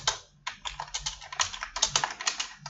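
Keys clatter steadily on a computer keyboard as Facebook IDs are entered one per line, a quick run of close, crisp taps with brief pauses, no voices over it.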